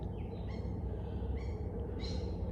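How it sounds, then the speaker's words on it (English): Small birds in the gum tree canopy above a rainforest garden trail give a few short, faint high chirps and calls over a steady low background rumble. "Little birds flitting around up there,"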